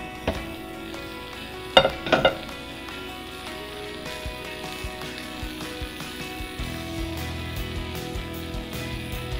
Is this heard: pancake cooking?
yes